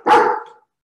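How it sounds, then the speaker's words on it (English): A single short, loud bark from a pet dog indoors, close by and alone. "Oh, our dogs are barking."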